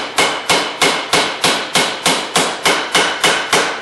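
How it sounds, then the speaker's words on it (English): A pointy hammer taps a U-joint bearing cap flush on a Ford F-series front drive axle: ten sharp metallic strikes in an even, steady rhythm, close and loud with no talk. "I always use a pointy hammer so you don't damage the ends at all."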